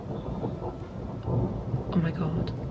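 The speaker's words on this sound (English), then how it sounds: "Can you hear that? That's the thunder." Thunder rolls and rumbles through a thunderstorm with rain in the background, a steady low roar that swells in the middle, with faint voices briefly audible.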